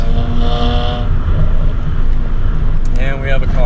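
A tuned 415 hp BMW 335i with the N54 engine roars hard along canyon roads, its loud exhaust note holding steady and then rising sharply as it accelerates.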